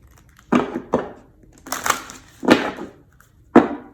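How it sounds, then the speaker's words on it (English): Tarot cards being shuffled off to one side: four or five separate riffling bursts with short quiet gaps between them, close and fairly crisp. "If you guys hear me shuffling off camera, it's because I don't want to ruin the spread we already have"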